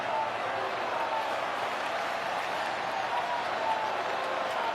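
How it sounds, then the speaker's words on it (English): A sellout baseball crowd in Milwaukee rises to its feet during Game 1 of the NLCS between the Brewers and Dodgers, a dense, steady roar of cheering and applause filling the ballpark. "Sellout crowd here in Milwaukee on their feet."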